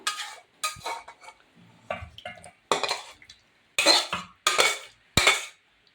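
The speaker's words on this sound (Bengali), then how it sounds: "তো এখন আমার চিলি পনিরটা হয়ে গেছে, তো আমি এখন পাত্রতে ঢেলে নেব।" Chilli paneer is scraped from a pan into a serving vessel, giving a series of sharp metal clanks and scrapes in quick bursts, separated by short quiet gaps, close and clear.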